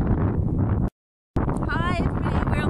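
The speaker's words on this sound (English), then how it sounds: "Very windy, as you can hear." Strong wind buffets the microphone outdoors in a loud, rough roar that cuts out briefly and then returns while someone talks over it.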